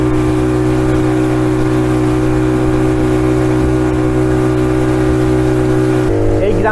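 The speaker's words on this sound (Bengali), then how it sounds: "ছোট্ট ইঞ্জিন চালিত নৌকাতে চড়ে 30 মিনিট সময় নিয়ে যেতে হবে" A small engine-powered boat motor drones loudly and steadily up close, its even hum briefly shifting in pitch near the end.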